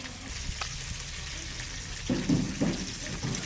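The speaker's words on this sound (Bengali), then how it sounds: "এই যে জলটা এইভাবে নিচড়ে নেবো" Water wrung by hand out of ground spinach, wet squelching and trickling noises with small drips, followed by a louder burst of squeezing and splashing near the end.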